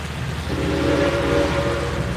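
A train at the Tennessee Valley Railroad gives a steady, loud tonal blast, likely its horn or whistle, starting about half a second in and holding over a constant low engine rumble.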